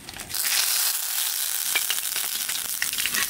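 Dried red chillies and bay leaves sizzle in hot oil, a loud, close, continuous hiss and crackle that surges in at the start and holds steady with faint spatters throughout.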